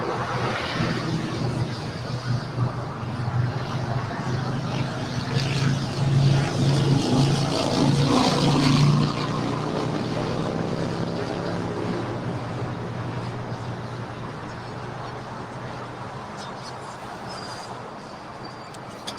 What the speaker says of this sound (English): You like the sound of this 777?